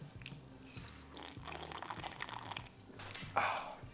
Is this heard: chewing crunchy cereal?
yes